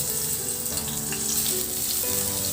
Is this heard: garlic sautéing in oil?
yes